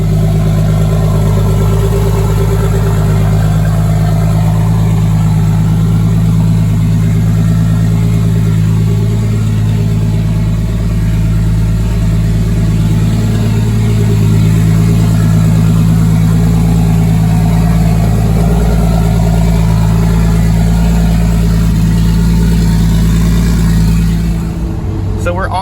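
A 633 whp right-hand-drive Euro Toyota Supra with two-step anti-lag drives along the road, its engine a loud, constant low drone filling the cabin throughout.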